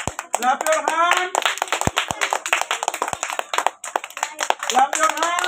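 Schoolchildren celebrating Teachers Day keep up a brisk, scattered clapping, many nearby hands slapping together continuously while excited voices talk and shout on top.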